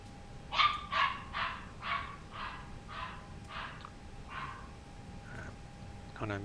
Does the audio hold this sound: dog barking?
yes